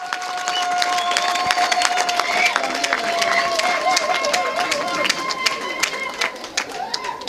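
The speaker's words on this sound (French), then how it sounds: "Les acclamations, s'il vous plaît." A crowd at a school ceremony honouring a general cheers and applauds, a dense steady wash of clapping and shouts with shrill whistles on top, loud and sustained throughout.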